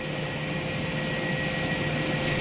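Steady, loud turboprop drone of a CP-140 Aurora long-range patrol aircraft of the Royal Canadian Air Force, a continuous engine roar with a constant tonal whine held evenly throughout, with no voices.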